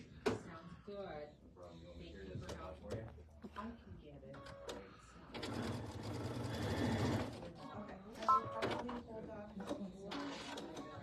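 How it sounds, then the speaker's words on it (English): A sewing machine stitches pieces of a Bedford table runner quilt kit in bursts, with one long continuous run of stitching in the middle, while people talk over most of it. "I've just sewn this little top part together, the bottom part together, and then this middle part together."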